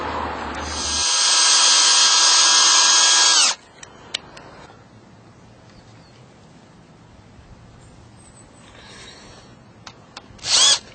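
A power screwdriver drives screws into wood, one long loud whirring run of about two and a half seconds, then quiet handling clicks and a brief final burst of the motor near the end.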